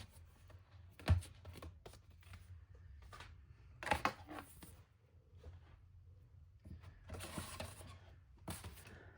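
Paper pieces being trimmed for a Classic Pooh mini album page with a paper cutter or scissors, producing sparse close clicks, sliding scrapes and a couple of sharper slicing bursts over quiet background.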